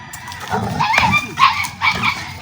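An excited Husky puppy gives short yips and whimpering barks in quick bursts, close by, with faint background noise between the cries.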